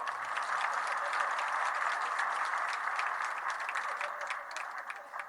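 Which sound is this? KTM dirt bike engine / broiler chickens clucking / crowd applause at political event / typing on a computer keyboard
crowd applause at political event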